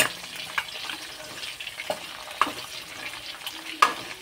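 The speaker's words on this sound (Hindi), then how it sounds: "मटन हमारा फ्राई हो चुका है अच्छे से" Mutton frying in a pan for Kashmiri kanti, giving a soft, low sizzle broken by a few sharp stirring knocks and scrapes, close and without talk.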